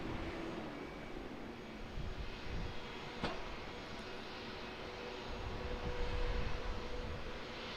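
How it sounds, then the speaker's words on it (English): An airliner landing at Auckland Airport, heard as a broad, steady engine roar at middle distance that swells slightly toward the end, with a brief sharp click partway through. "Man, that was a smooth landing."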